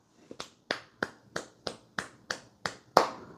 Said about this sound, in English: that was a slow clap